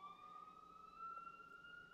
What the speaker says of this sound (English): I swear, I heard the siren